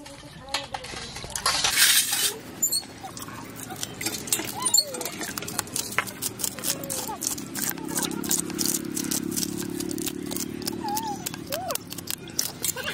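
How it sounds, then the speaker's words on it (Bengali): Hilsa fish being scaled with a spoon, giving a steady metallic scraping and light clinking with a dull rasping texture underneath, close by and continuous for a stretch. "চামচ দিয়ে আঁশগুলোকে ছাড়িয়ে নিই"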